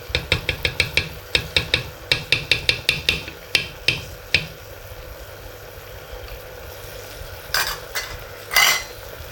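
A spoon stirs fresh blended tomato and tomato paste in a pan over medium-high heat, clicking briskly and rhythmically against the metal. The strokes slow and fade over a low sizzle, and a couple of scraping swishes follow.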